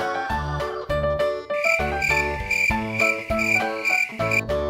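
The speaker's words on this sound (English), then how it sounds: "Cricket." A cricket chirps in a children's sound clip, rapid repeated pulses in a steady rhythm, layered over a bright, busy musical backing track.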